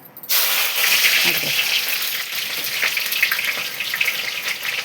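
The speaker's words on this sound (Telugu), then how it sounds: "అదిగో ఆయిల్ మరుగుతుంది. ఇప్పుడు ఆనియన్ వేసుకుందాం ఫ్రెండ్స్" Onions dropped into hot boiling oil, a sudden loud hiss that settles into a steady, close sizzle and crackle of frying, with faint bubbling throughout.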